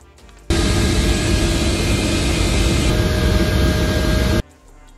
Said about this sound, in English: At this point, the helicopter was up and ready to go